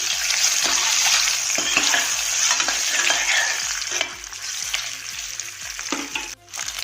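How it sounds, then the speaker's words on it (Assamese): Eggs fry in hot oil for an Assamese egg curry, giving a steady close sizzle with repeated stirring scrapes throughout, briefly dipping near the end. "আৰু কণীকেইটা অকণমান ৰঙচুৱাকৈ ফ্ৰাই কৰি ল'ম"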